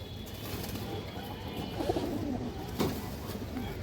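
A pigeon of an old red-barred breed coos softly a couple of times over a steady, noisy background hiss, with no talk.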